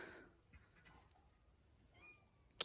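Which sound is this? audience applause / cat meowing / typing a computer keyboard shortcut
cat meowing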